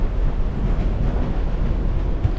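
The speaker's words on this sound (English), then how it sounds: "not only is it raining, it is so windy" Strong wind roars and buffets the microphone with a constant low rumble during rain in Costa Maya, Mexico. No voices are heard.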